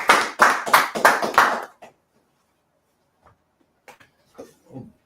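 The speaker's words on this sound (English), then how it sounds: "Everyone clap it up. Clap it up." Clapping from an audience at a law class, a quick burst of loud, close hand claps lasting about two seconds, then fading to near silence with a few faint scattered sounds.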